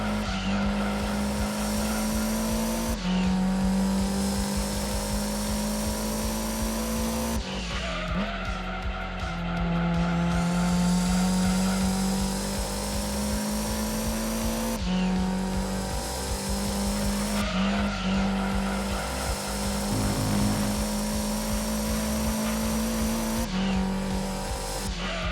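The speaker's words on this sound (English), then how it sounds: "And I can definitely hear the delicate hums of the engines behind me." Race car engines in Gran Turismo 2 hum and rev steadily, with tires squealing through corners and gear changes breaking the drone every few seconds, loud and continuous throughout.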